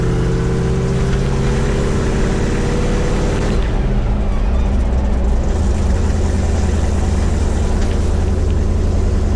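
A 1986 Chevrolet K-20 truck engine drones loudly on a test drive, and the tone shifts partway through as the engine changes pitch under load, with no voices.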